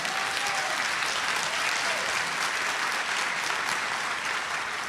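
Steady, sustained applause from a crowd at a community meeting, even and continuous throughout with no break.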